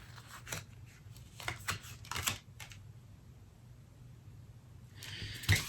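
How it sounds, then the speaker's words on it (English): Tarot cards being shuffled close up: quiet, irregular bursts of riffling and flicking with short pauses between them, then a louder crisp shuffle at the end in an otherwise quiet room. "gonna shuffle these because I'm not feeling that they're for you"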